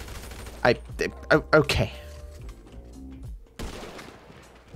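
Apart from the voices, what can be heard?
gunshots in the video game GTA Online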